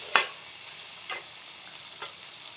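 Onions and ginger fry in a pan for chicken soup, a faint sizzle broken by three scraping stirs, the first the sharpest.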